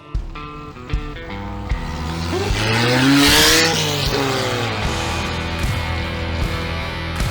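Small high-revving engines of mini racing cars whine past at close range on a circuit, pitch rising and falling as they speed by, with a brief tire squeal.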